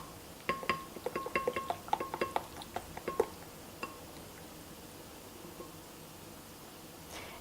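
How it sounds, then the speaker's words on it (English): Spoon scraping and clinking in a bowl while raw vegan barbecue sauce is mixed, a quick run of close taps and scrapes that fades into quiet. "Really mix up my sauce, my excellent barbecue sauce here."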